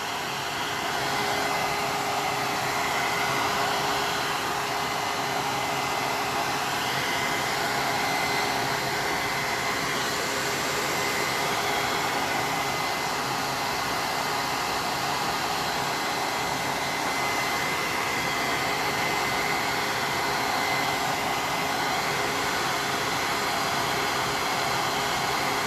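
A hair dryer blows steadily to dry paint on a canvas while a Darth Vader picture is painted, giving a loud, unbroken airy whoosh from start to finish with no talking.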